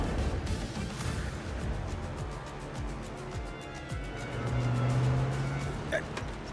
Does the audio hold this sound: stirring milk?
no